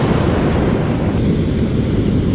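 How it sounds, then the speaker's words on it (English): Ocean surf breaks on a Northern California beach while fishing for surf perch, a loud, dense roar of waves mixed with heavy wind buffeting the microphone. "Here comes a good wave for him."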